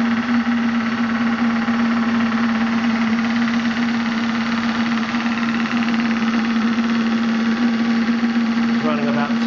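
Maxitrak Graupner 5000 model steam engine running at about 2 bar with a steady mechanical chuff and a strong constant hum, continuous and close throughout.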